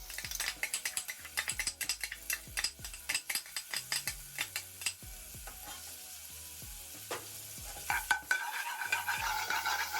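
Root ginger dropped into hot oil while cooking an Indian madras, crackling and sizzling steadily with repeated scraping clicks of a utensil stirring through the pan, no voices.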